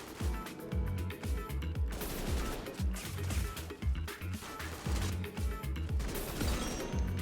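An AR-like gun in Roblox Weird Gun Game fires in rapid repeated bursts, steady rhythmic close shots over game ambience, loud throughout.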